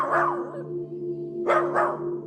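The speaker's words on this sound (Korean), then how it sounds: "저희 집 강아지가 짖는 거예요" A house dog barks at night: one bark, then a pause, then two quick barks close together, loud and near over a steady low electrical hum.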